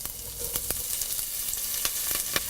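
Curry leaves, ginger and green chilli sauté in a pan of oil with urad dal, keeping up a bright sizzle punctuated by repeated crisp pops and spatters, close and with no voices.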